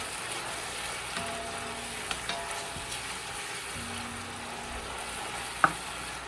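Spinach masala seasoned with adobo fries in a pan, a soft continuous sizzle with faint occasional scrapes of stirring and one sharp clink near the end, close and fairly quiet.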